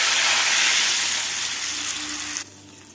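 Tamarind water poured into hot mustard oil with mustard powder bursts into a loud, close sizzle that slowly fades over a few seconds before cutting off, with no talking.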